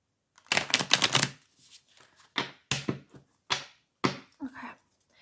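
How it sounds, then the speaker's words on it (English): Deck of tarot-style cards being shuffled close up: a quick riffling burst at the start, then a series of separate crisp card slaps and flicks with short pauses between them. "let me just shuffle this deck"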